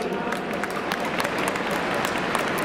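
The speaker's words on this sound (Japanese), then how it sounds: "大きな拍手をお迎えください。" A stadium crowd at a baseball game applauds the ceremonial first pitch, dense steady clapping filling the space.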